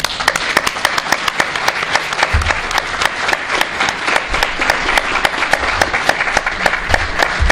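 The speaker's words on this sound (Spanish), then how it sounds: "un fuerte aplauso para todos" Attendees at a 50th-anniversary alumni reunion in a Spanish telecommunications engineering school clap loudly and steadily, with distinct sharp claps over a continuous wash of applause.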